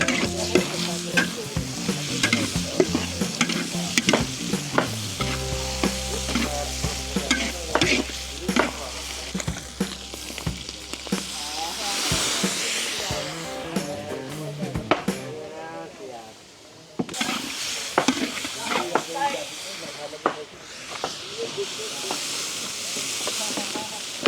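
Ingredients sauté in a pan at a large Filipino birthday cookout, giving a steady loud sizzle with frequent scraping stirs and clanks. A low hum is heard early on, and voices murmur in the background.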